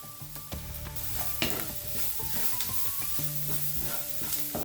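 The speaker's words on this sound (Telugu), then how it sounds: "ఉల్లిపాయలని ముదురు గోధుమ రంగు వచ్చే వరకు వేపుతాను." Onions fry in a kadai while a spoon stirs and clatters against the metal, giving a steady sizzle broken by sharp scrapes and knocks, close and fairly loud.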